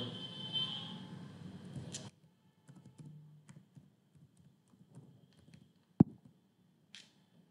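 Soft, scattered keystrokes on a computer keyboard as a password is entered, light irregular taps with pauses and one sharper click, faint and close in a quiet room.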